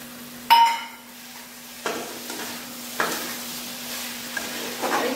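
Jackfruit curry being stirred and fried with a ground spice paste, a spoon scraping the pan in several distinct strokes over a steady sizzle, close and fairly loud, no voices.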